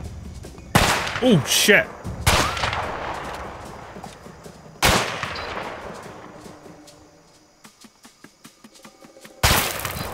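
Gunfire from the video game A Way Out, several loud sharp shots and bursts spaced across the stretch, with quieter clattering between them and a brief exclaimed voice.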